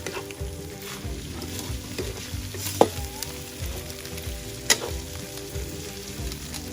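Pork blood stew (Ilocano-style dinuguan) is stirred and fried in a pan: a steady, moderate sizzle runs throughout, with two sharp utensil clanks standing out partway through.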